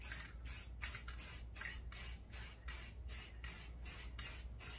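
Spray paint can laying a light brown coat in a woodland camouflage pattern, hissing in about a dozen short, evenly spaced bursts, close and steady.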